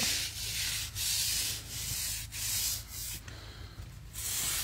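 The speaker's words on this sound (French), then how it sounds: "un petit coup de brosse comme ça" A brush scrubs a blue stone outdoor terrace coated with undiluted Lithofin exterior cleaner, rhythmic back-and-forth rasping strokes, about nine in a row, close and distinct with brief pauses between.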